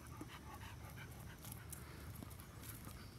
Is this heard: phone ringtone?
no